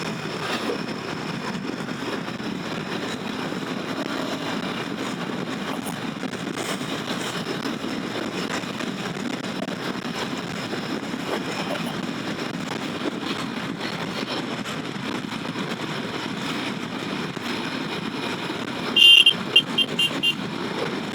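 A Royal Enfield Himalayan 450 motorcycle cruising in sixth gear on a highway road, a steady engine and road drone with wind noise, constant and even, with a short burst of higher-pitched sound near the end.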